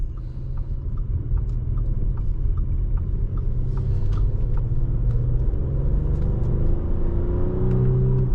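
A 2023 Audi SQ5 engine rumbles loudly and steadily, its pitch rising as it accelerates, with faint ticking and clicks over the drone.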